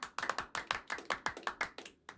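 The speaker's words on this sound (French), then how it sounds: "nous allons applaudir Isabelle" A handful of sharp, close claps for a woman named Isabelle, spaced unevenly in a loose rhythm of about a dozen distinct smacks from one or two people rather than a crowd.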